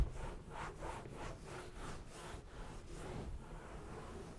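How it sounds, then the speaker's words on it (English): A TSP-soaked rag scrubs grease off a kitchen ceiling above the stove in quiet, rhythmic back-and-forth strokes, about nine rubbing passes in a row. "rag soaked in TSP makes quick work of the grease on this ceiling"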